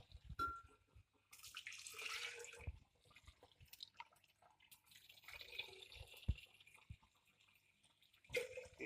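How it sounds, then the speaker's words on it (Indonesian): Water poured into a mixture of ageratum leaves during a plant experiment, heard as faint intermittent splashing and trickling with a few drips and small knocks, close but quiet. "kita tambahkan air sekitar 250 ml"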